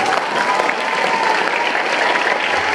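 Dense, loud applause from a crowd at an Islamic boarding school gathering, steady and unbroken throughout.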